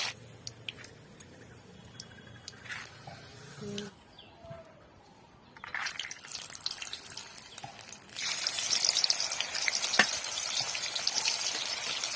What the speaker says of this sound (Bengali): আমি একটা ছাঁকনি নিয়েছি, এর মধ্যে আমি ছোলার ডালগুলোকে ভাজবো